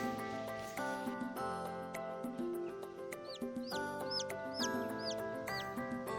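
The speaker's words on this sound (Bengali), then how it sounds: "এটা হচ্ছে মুরগির বাচ্চা" Newly hatched chicks, one with two extra malformed hind legs, give repeated short, high rising-and-falling peeps. The peeps come in a loose cluster over a steady tonal background that sounds like music.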